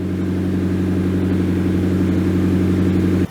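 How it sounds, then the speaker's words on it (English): A warmed-up car engine idles steadily through a temporary exhaust silencer, a loud, even low rumble with a faint hiss that holds constant, then cuts off abruptly at the very end. "the car's been idling for a little bit and it's all warmed up"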